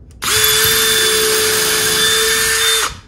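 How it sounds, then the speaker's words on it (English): A cordless drill boring a hole for a fastener, its motor starting abruptly into a loud, steady high whine that holds for almost three seconds before cutting off. "I can clear all those chips out and I can continue drilling."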